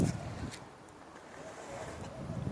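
Wind gusts buffet the microphone outdoors, a low rumbling roar that swells at the start and end, with faint voices nearby.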